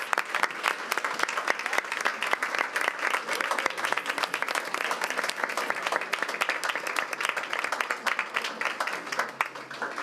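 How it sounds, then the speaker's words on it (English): A standing audience at a school board meeting applauds for several seconds, dense and fairly loud clapping throughout with a few voices mixed in. "Let's please stand and give them a round of applause"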